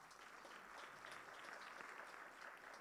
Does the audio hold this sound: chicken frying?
no